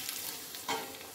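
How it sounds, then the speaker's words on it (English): Steady hiss of hot palm oil sizzling in a pot, with a brief stirring scrape near the middle. "I just allow it sizzling for a minute."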